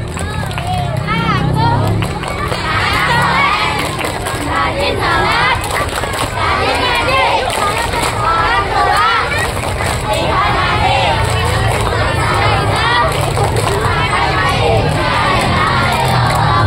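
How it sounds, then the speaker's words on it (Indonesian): A large group of elementary schoolchildren at a Maulid Nabi gathering perform the tepuk anak soleh chant, loud shouted voices in unison punctuated by rhythmic clapping, filling the space continuously without pause. "Yuk bareng-bareng tepuk anak soleh"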